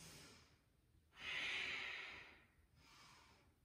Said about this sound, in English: Deep ujjayi breaths.